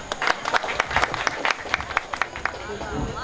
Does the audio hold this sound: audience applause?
yes